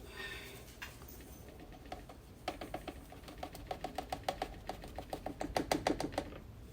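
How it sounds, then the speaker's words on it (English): A hand sifter works dry ingredients for red velvet waffles, making a quiet, steady run of rhythmic ticking taps that grows busier and slightly louder toward the end. "I'm going to put this into my sifter. Always sift your dry ingredients."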